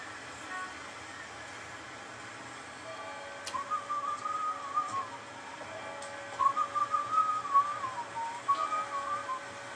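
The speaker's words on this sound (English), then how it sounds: "have to get past all the whistling at the beginning of the song." A whistled melody opens a recorded song, its faint, wavering tune drifting in after a few seconds of quiet background hiss and continuing in short rising and falling phrases.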